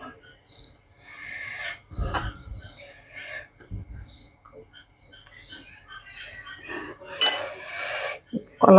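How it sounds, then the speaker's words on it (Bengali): A metal lid comes off a steamer pot of hilsa cooked in coconut milk with mustard and poppy seed paste, heard as scattered clinks, a clatter, and a scraping rattle near the end. "আমি এবার ঢাকনাটা খুলবো।"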